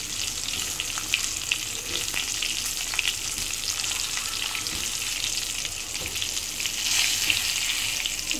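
Stuffed brinjals fry in oil in a pan on a low gas flame, a steady close hiss and crackle of sizzling that runs throughout, swelling slightly near the end, with no voices.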